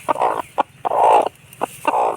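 A hen that has hatched newly born ducklings clucks nearby in short, repeated bursts, with a few longer drawn-out clucks between quick single calls.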